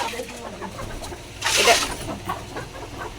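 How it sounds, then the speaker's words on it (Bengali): Desi hens on a poultry farm give soft clucks under a faint voice, with one brief louder squawk partway through. "একদম দেশি মুরগি, পিওর দেশি মুরগি না?"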